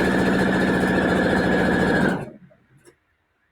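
A sewing machine runs steadily as it stitches the top seam of a fabric mask, a loud continuous motor whir with a rapid needle rhythm that stops abruptly about two-thirds through, leaving near silence.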